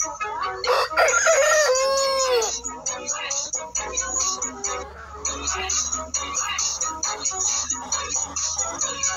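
A rooster crows loudly up close near the start, followed by steady clucking and chicken chatter, with some talk in the background.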